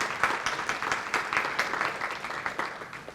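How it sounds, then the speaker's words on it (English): A lecture audience claps steadily throughout, a dense patter of many hands at moderate loudness that tapers slightly toward the end. "You should give her a round of applause right now because she's so nice."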